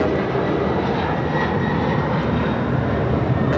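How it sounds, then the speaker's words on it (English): Delta Boeing 767-300ER jetliner taking off at LAX, a steady broad roar of jet engines that holds loud and even throughout, with no voices. "This is Delta 688 taking off to JFK on 767 300 ER."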